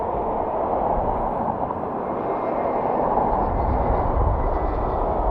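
An Aer Lingus aircraft at Dublin Airport gives a steady, dull broadband engine roar, distant and continuous without clear rise or fall, heard alone.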